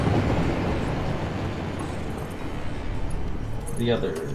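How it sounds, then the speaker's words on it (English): A train arrives in a video game, a dense, steady rumble and rattle that fills the whole stretch, with a voice talking over it. "That train comes up here"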